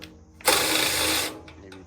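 Bolts being tightened on a Jaguar IFS suspension for a 1956 Chevy truck: a single loud, close, harsh mechanical whirring burst lasting under a second, followed by faint clicks.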